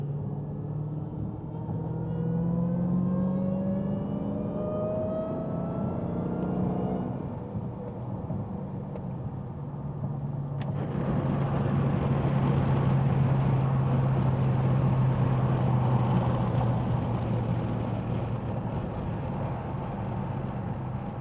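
Dodge Hellcat with stock exhaust, heard from inside the cabin. Steady low rumble throughout, with a rising engine tone early on and a louder, fuller roar after the midpoint.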